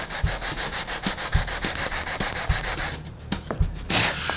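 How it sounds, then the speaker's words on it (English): A guitar nut is rubbed flat on sandpaper held on a block, making repeated rhythmic scraping strokes, close and steady, with a few quieter, irregular scrapes near the end. "I can just sand the bottom of the nut at a 90 degree angle"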